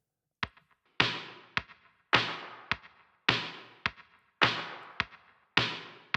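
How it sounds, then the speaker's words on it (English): A stripped-down drum track, filtered to remove most of its frequencies and treated with delay and reverb, plays as sharp repeating hits with long decaying tails in a steady rhythm, with no other instruments. "I exported the whole drum track, so all the drum sounds, and then added some delay and reverb"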